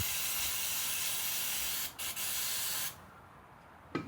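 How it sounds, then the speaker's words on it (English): Brake cleaner sprayed onto the engine side of a 2002–07 Yamaha Grizzly 660 ATV near the rear driveshaft oil seal: a loud, steady aerosol hiss that breaks briefly twice, then stops, leaving quiet room tone. "I'll just take my whatever's left of my brake clean here."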